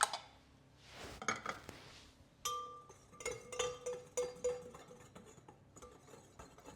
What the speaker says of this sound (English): we are whisking first everything together